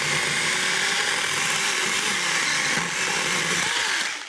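A cheap €36 battery chainsaw with a 6-inch blade cuts through a roughly 3-inch branch close to the grass, its motor whining steadily and loudly before winding down at the end.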